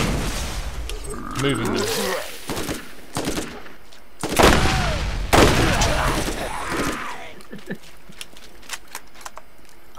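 Gunfire against enemies in the Borderlands shooter game, scattered sharp shots and heavier bursts amid game effects, with a player speaking briefly over the noise.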